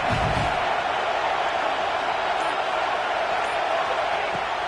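Steady stadium crowd roar in an American football video game, a constant dense wash of noise with a commentator talking over it.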